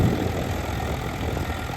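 A Swaraj tractor engine runs in a field being prepared for potatoes, giving a steady low mechanical drone that stays even and close for the short moment without talk.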